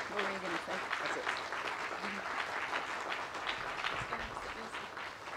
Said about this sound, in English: How about one more round of applause for our guests